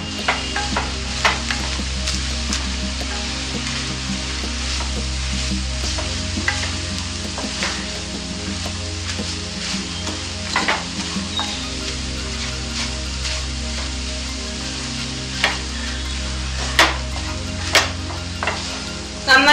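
Pappadam thoran being stirred in a hot pan, with a steady sizzle running throughout and irregular scraping and clinking of the spoon as the crushed pappadam is mixed, close and fairly loud with no talking.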